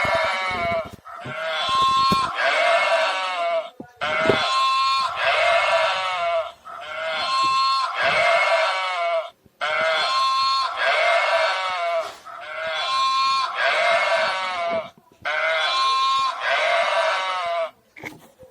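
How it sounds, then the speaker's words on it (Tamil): A young goat kid kept at home bleats repeatedly, about seven loud, close calls spaced evenly with brief pauses between them, each a drawn-out wavering cry. "இந்த ஆட்டுக்குட்டி நம்ம வீட்டில் வளர்க்குறது தான்."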